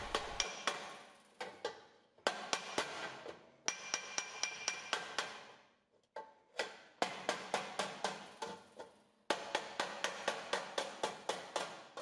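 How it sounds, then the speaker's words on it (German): Series of sharp hammer blows on a sheet metal rim held slightly off a dolly, shaping a lamp housing for a Ford car. Rapid bursts of ringing metallic taps, close and clear, separated by short pauses. "Das bedeutet, der Hammerschlag trifft leicht neben dem Dolly auf den Rand."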